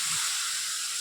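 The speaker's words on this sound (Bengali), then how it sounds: "চলো এর মধ্যে এখন এই দুধটা দিয়ে দিই, ফুটানো দুধটা দিয়ে দিই" Boiled milk poured into a hot pan of fried semolina for barfi, a steady steaming hiss across the whole second with a faint low gurgle at the start.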